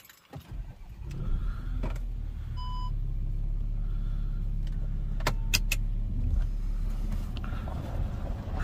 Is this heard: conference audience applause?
no